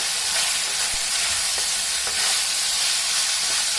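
Chilli chicken frying in a pan with turmeric added, giving a steady hiss and sizzle, with a few faint scrapes and taps as it is stirred; no talking.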